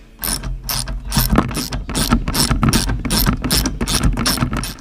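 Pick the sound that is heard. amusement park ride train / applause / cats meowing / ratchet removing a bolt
ratchet removing a bolt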